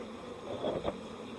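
Honey bee workers buzz faintly in an opened hive, a soft, thin drone with a brief swell near the middle, quiet and close with no voices.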